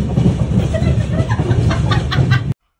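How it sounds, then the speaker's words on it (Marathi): A train standing at a stop near Udupi during the monsoon gives off a loud, steady rumble with faint higher hums and clicks, running evenly for about two and a half seconds before cutting off abruptly. "इथे ना अशी ट्रेन थांबलेली"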